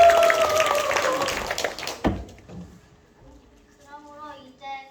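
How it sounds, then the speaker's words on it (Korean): Applause at a church Bible recitation contest, a dense burst of clapping for about two seconds that cuts off sharply, followed by quiet room sound and faint voices. "박수 내주세요"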